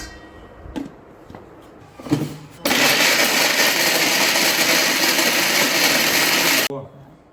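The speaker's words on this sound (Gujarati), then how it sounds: "3 રોટલી લેશું, એના નાના નાના પીસ કરી લેશું ને મિક્સરમાં મીડિયમ સાઈઝનું દળી લેશું." A kitchen mixer grinder blitzes small pieces of roti into medium-coarse crumbs, a loud steady whirring roar lasting about four seconds after a few clunks of handling, then cutting off abruptly.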